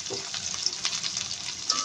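Chopped onion and chili sizzle in hot oil with browned garlic, stirred in a pan while cooking a Bengali prawn dish, a close continuous frying hiss with light scraping and no talk.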